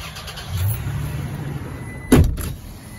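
A road vehicle sits near with a low steady engine rumble, broken near the end by one loud, heavy door-like thump, then the rumble carries on.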